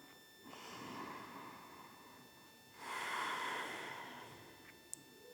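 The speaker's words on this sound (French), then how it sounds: "Et on va rester 5 respirations." Slow breaths are drawn during a held Ashtanga yoga pose, two soft swelling inhale-exhale waves with a quiet pause between, close and faint with no talking.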